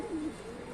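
A pigeon gives a short, close coo against faint outdoor background noise.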